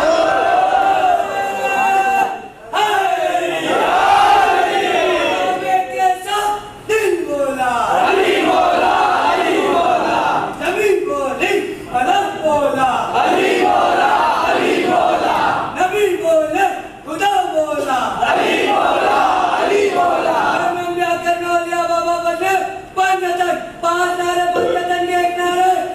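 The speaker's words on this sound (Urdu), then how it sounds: "نعرے ذرا کم لگائیے گا کیونکہ وقت بہت کم ہے" A large crowd chants slogans in loud, rhythmic unison at a religious speech in a mosque gathering, the massed voices sustained and echoing with only brief dips between repeated phrases.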